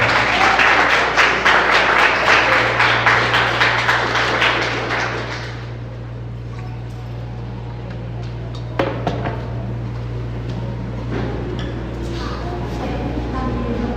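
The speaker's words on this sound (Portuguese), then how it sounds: "Aplausos para o Senhor." A church congregation claps at a public worship service, loud rhythmic applause for the first five or so seconds that then fades into a quieter room with scattered knocks and a steady low hum.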